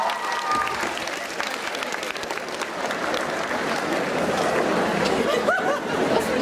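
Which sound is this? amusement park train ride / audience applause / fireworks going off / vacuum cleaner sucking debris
audience applause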